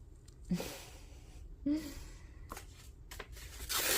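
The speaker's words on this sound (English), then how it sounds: "I've got some ASMR going on right now with the tearing of the paper." Paper being torn in a few short, rough rips, close by and fairly quiet, separated by brief pauses.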